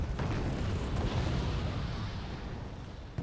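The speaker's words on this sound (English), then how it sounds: "we got cluster artillery in Delta, pummeling the Raider tanks" Cluster artillery fire pounds away in the video game Wargame Red Dragon, a dense, continuous rumble of overlapping distant blasts.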